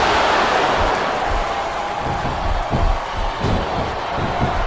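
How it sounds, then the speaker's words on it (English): A capacity arena crowd in the WWE Smackdown vs RAW 2007 video game roars in a dense, continuous wash of cheering and noise, loud and unbroken throughout. "It sounds like this capacity crowd has something on their minds, Taz."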